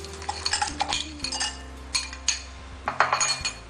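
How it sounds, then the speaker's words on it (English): Ice cubes clink and rattle into a glass for a masala cola drink, a run of sharp, bright glassy knocks in irregular bursts, close and clear with no talk. "We'll add some ice cubes to it."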